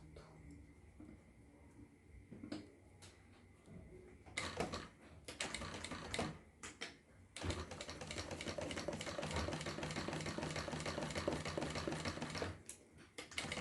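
A sewing machine stitches a seam on a zipper pouch, a notebook cover. It runs in short mechanical bursts, then in one long steady run of rapid stitching, with quiet handling between.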